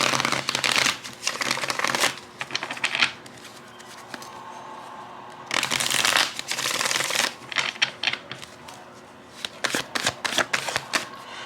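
A tarot card deck is shuffled close up in several separate bursts of rapid riffling and flicking, with quieter pauses between them.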